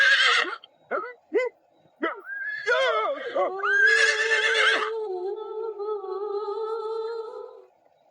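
A horse whinnies in a drama set in early Islamic Arabia, a long loud neigh with wavering falling tones that fades out, following several brief sharp calls or snorts at the start.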